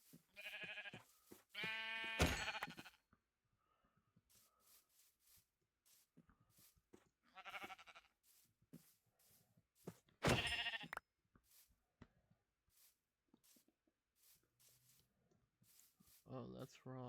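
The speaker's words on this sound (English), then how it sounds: "Ooh, sheep." Several sheep bleats in Minecraft come in short bursts spread across the stretch, interspersed with soft clicks and quiet gaps, fairly faint overall.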